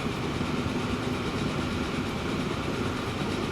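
A freight train runs along the rails in the railway simulation game Transport Fever, a steady rumbling roll with faint rhythmic wheel clatter, continuous and fairly loud with no voices.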